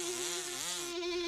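Cartoon bees buzz in a steady, loud, close drone with a wavering pitch in a classic animated fairy-tale scene, with no one talking.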